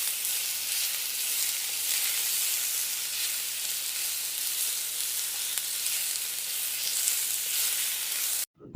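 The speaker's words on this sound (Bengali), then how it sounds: "এগুলো একটু ভেজে এর মধ্যে দিয়েছি 1 কাপ পরিমাণ পেঁয়াজ কুচি।" About a cup of chopped onion fries in hot mustard oil with a steady, close sizzle and hiss that carries on for several seconds and then cuts off abruptly near the end, with no voices.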